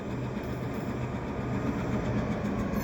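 CN GP38 and GP40-2W wide-cab switcher locomotives in winter at Pointe St Charles move an old caboose, giving a steady low engine rumble and rail noise at moderate distance, continuous throughout with no speech.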